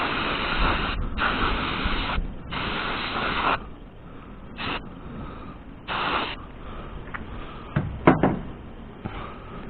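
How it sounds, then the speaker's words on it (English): Brake cleaner sprayed from an aerosol can into the brake parts of a 1964 Ford Falcon: several hissing bursts of varying length, the longest near the start, with shorter sprays and a couple of clanks later on. "I got some brake cleaner too, go try to get in there and just clean this out"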